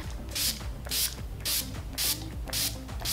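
Quick hissing bursts of makeup setting spray repeat about six times in an even rhythm, close and fairly loud, over a low background hum.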